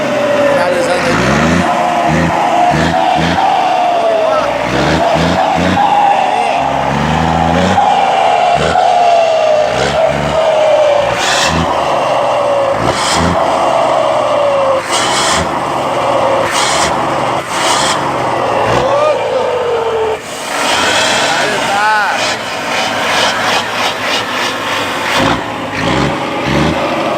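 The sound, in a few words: Scania R420 truck engine revving, modified turbo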